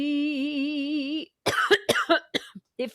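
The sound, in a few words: coughing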